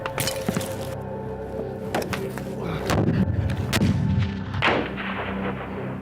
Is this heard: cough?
no